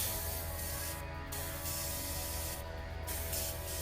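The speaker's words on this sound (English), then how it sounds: "Test spray." An airbrush test-sprays thinned acrylic paint, a close, steady hiss with two brief gaps where the spray is released and resumed.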